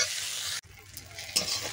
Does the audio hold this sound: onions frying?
yes